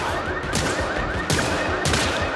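A gun fires in the video game Get Even: rapid automatic bursts, loud and close, with sharp repeated reports and a brief pause between volleys.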